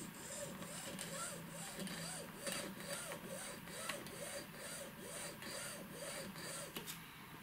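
Wooden block rubbed back and forth against braided fishing line in an abrasion test. It makes a close, steady, rhythmic scraping with evenly repeated strokes.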